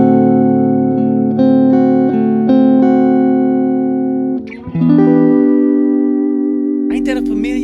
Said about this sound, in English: Dominant 7.